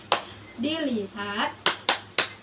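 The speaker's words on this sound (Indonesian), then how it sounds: "Dengan ice breaking tepuk fokus. Kakak akan memberikan contohnya terlebih dahulu." Rhythmic hand claps from a 'tepuk fokus' ice-breaking routine, one sharp clap, a spoken phrase, then three crisp evenly spaced claps close to the listener.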